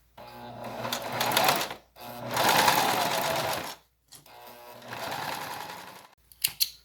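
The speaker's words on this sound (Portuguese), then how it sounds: "E faço a mesma coisa na máquina, a costura definitiva, com a agulha toda para a esquerda" A sewing machine stitching the final seam of a double pencil case runs in three long bursts separated by brief pauses, a fast, close whirring rattle, then a few short clicks at the end.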